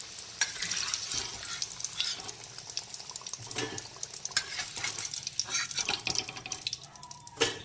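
Light-brown fried potatoes are lifted out of hot oil in a pan, with a steady sizzle broken by irregular scraping and clinking of the utensil, close and fairly soft, without talk.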